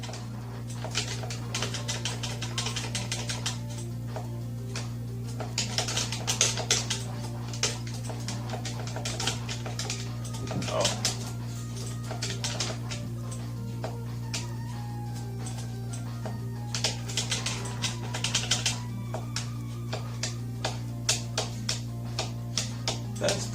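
Buttons on a Mega Man 2 plug-and-play controller clicking in small irregular bursts of sharp, light taps over a steady electronic hum from game audio, close and moderately quiet.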